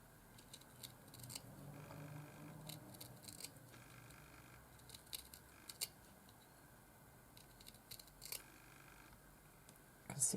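Small scissors snip thread close to bead embroidery in quiet, scattered clicks and light scrapes against soft fabric handling, faint and intimate.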